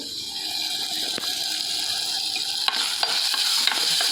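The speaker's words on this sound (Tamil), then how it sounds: "தக்காளி வெங்காயம் நல்லா வதங்கணும்." Tomato and onion sauté in a pan with a steady, close sizzle, while a few sharp scrapes and clicks from stirring stand out near the end. No one speaks.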